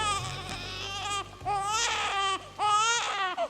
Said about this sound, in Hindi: एक बच्चे के रोने की आवाज से